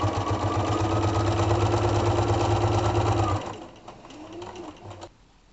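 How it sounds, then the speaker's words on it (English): A sewing machine runs steadily for about three seconds, starting the first stitch of topstitching on a pair of shorts, with the presser foot guiding the seam. The motor then stops and a few quieter mechanical sounds follow. "we're using the inside of my foot, again, the presser foot, to start the first stitch"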